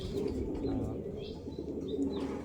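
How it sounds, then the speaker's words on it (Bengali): Racing pigeon chicks kept at home, soft cooing and chirping calls close by over a steady low background hum, with a few brief wing or movement sounds. "এটা আমার ঘরের কবুতর বাচ্চা"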